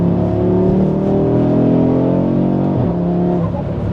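Audi RS3 turbocharged five-cylinder with an upgraded intercooler accelerating hard, a loud, close, steady engine drone rising in pitch with one brief dip near the end, no talking.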